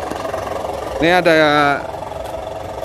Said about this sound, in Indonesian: Ini suara knalpotnya memang agak berisik Mas Bos.